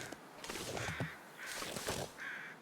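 Crows cawing in The Long Dark, three rough, harsh caws in a loose sequence over a quiet backdrop, close and clear with no talking.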